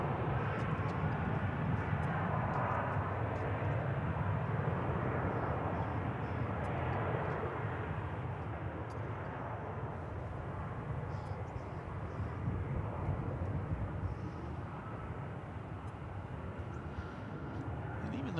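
American Airlines Flight 942 departing Dallas-Fort Worth Airport for Albuquerque, a distant, continuous low jet rumble that stays fairly even and eases slightly toward the end.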